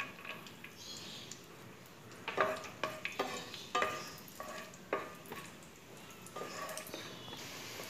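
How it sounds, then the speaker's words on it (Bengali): Dry fruits, cashews first, fry one by one in hot ghee in a pan, giving a steady soft sizzle with clinking stirring and scraping strokes in a quick irregular run, close by. "এবার আমি এক এক করে ড্রাই ফ্রুটসগুলো ভেজে নেব।"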